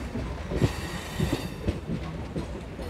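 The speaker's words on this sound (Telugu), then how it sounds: "ఇలా రెండు ట్రైన్లు పక్క పక్కన వెళ్తూ ఉంటాయి" Two MEMU express trains run side by side on the Tenali–Vijayawada route, their wheels giving a rhythmic clickety-clack over rail joints with a rumbling carriage noise, heard close from on board.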